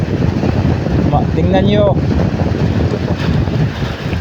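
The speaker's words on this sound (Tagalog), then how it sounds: "Medyo malakas na yung hangin dito, Sangkay." Strong wind on an island in Guiuan, Philippines, buffets the microphone in a constant roaring rush, with a brief spoken phrase partway through.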